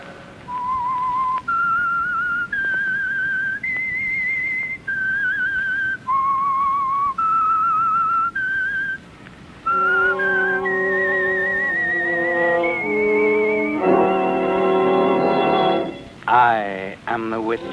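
A clear whistled melody of sustained notes from a 1946 radio drama opening, leading into a brighter whistled passage with a fuller musical accompaniment building beneath it.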